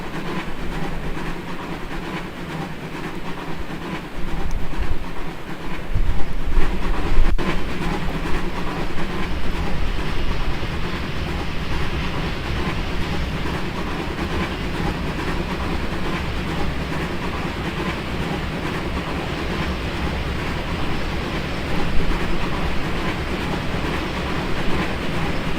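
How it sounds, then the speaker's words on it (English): A train crossing a bridge in the Trainz video game: a continuous rolling rumble of cars and wheels with faint clickety-clack, steady and moderately loud, swelling slightly partway through. "Could you imagine getting a picture of a train on a bridge like this?"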